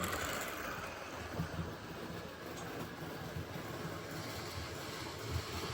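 Steady rumbling clatter of a model railway train running along its track, continuous and moderately close, with no talking.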